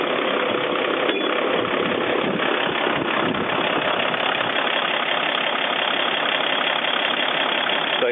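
A Mercedes Sprinter van engine idles steadily nearby, a constant mid-pitched rumble with a faint knocking texture and no changes in speed.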